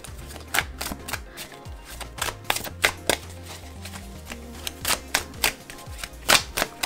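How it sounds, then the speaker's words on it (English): A tarot card deck is riffle shuffled by hand, giving repeated quick fluttering bursts of card riffles with brief soft taps and pauses between them, close and fairly quiet. "turn it again and riffle shuffle it again"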